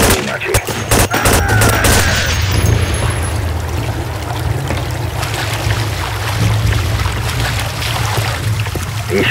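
Dense, continuous gunfire and explosive bursts from a first-person shooter video game fill the whole stretch, loud and close, with heavy low rumble and sharp cracks near the start.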